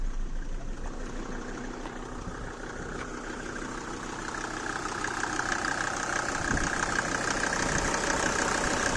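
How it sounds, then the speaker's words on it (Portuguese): A Mercedes-Benz C 250 Turbodiesel (W202) five-cylinder diesel engine idles with a steady, slightly clattering knock, close by and continuous, growing a little louder toward the end. "Esse é o barulho dos 5 cilindros a diesel."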